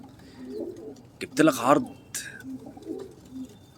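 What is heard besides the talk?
pigeons cooing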